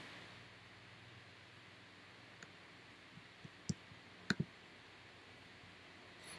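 A computer mouse clicks a few times, sharp close ticks spaced apart, including a quick double click, over a steady faint hiss.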